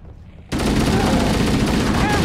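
Gunfire erupts in Halo: Combat Evolved Anniversary, a sudden dense, continuous volley of rapid shots with a loud, roaring wash of noise after a brief quieter opening.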